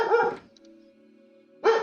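A pet dog named Zoe barks twice indoors, loud and close, with a quiet hum between the two barks.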